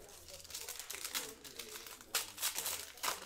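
A 2020 Panini Honors Football trading card pack wrapper being opened, soft close crinkling and rustling that rises into a few louder crackling bursts toward the end.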